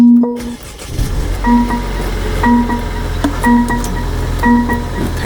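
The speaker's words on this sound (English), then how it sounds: "need to turn the car on for this to start charging" A car engine starts and settles into a steady low idle, joined by a repeating electronic chime that beeps at regular intervals of about a second, close and clear with no talk.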